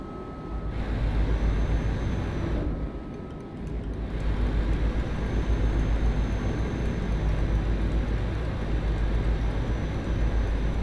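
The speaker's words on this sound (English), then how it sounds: "That plane is coming down at a ridiculous angle." A low-flying airplane in the Euro Truck Simulator 2 driving game gives a steady, loud, broad roar that dips briefly and then returns for the rest of the stretch.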